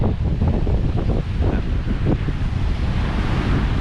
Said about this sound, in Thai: ชายทะเลครับ ชายทะเล